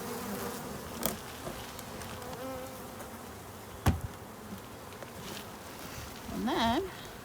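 Honeybees buzz around a hive being installed on a cold day, a continuous insect drone with individual bees flying close past, plus a few sharp knocks from handling the equipment.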